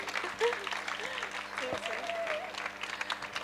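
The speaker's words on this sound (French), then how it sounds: "je vous demande d'applaudir Élise Mareuil pour une petite" An audience at a talk on nature awareness for toddlers and positive education applauds a speaker coming on stage, fairly quiet, dense clapping with voices and stray sounds mixed in.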